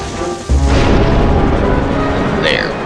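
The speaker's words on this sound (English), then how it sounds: "There's unlimited fish bombs here." A bomb fish detonates in The Legend of Zelda: Twilight Princess, a sudden loud booming blast that breaks in after a quiet half-second and then rumbles on, followed by a bright chiming game sound near the end.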